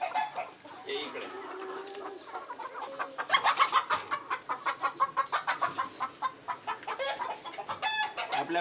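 Free-range desi country chickens at a Jalgaon poultry farm cluck steadily and close by, with a rooster crowing among them and a rapid run of pulsing clucks in the middle.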